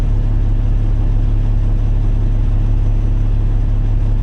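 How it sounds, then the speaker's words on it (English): Red Peterbilt truck pulling up at a truck stop, a steady heavy diesel rumble close by and loud, low and continuous with no pauses. "We got a red Peterbilt pulling up."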